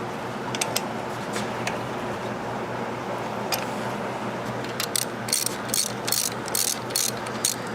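A socket wrench ratcheting on a rare twin-engine Allis Chalmers tractor engine, with rapid clicking bursts that come in quicker, louder runs toward the end over a low background hum.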